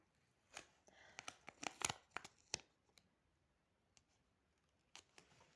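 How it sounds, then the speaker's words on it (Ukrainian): Sharp plastic crinkling and rustling, a dense cluster of crackles early on, then sparser crisp crunches, close and fairly quiet. "но зато пакетики хрустят"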